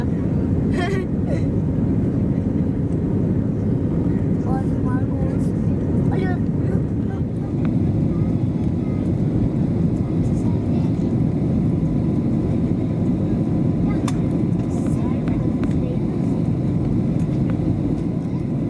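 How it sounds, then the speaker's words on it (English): A Novair airliner cabin just after takeoff from Copenhagen Airport, filled with a steady, loud low engine roar and airflow rumble that holds without a break, with faint occasional clicks and rattles on top. "Lovely takeoff over Copenhagen Airport."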